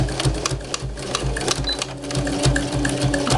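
A sewing machine runs in reverse to lock a seam on a fabric face mask, a close, steady rapid mechanical chatter of stitching with no talk.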